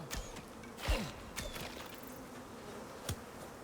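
Bees buzz around a nest in the survival video game Icarus. The drone is soft and steady, with a few clicks and footstep-like taps mixed in.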